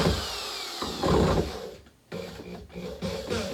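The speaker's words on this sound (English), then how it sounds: "Hold the drill up here." A handheld power drill driving into pegboard, whirring in short bursts with a brief pause between runs and a varying motor pitch.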